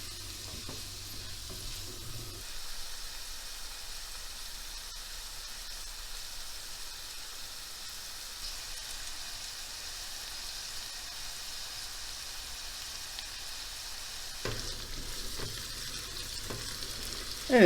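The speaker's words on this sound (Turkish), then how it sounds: "Yavaş yavaş sotelensinler." Mushrooms sautéing slowly over moderate heat in a pan for a vegetable orzo rice pilaf, a soft, steady sizzle and hiss that goes on throughout, with a brief stir or clatter near the start and the end.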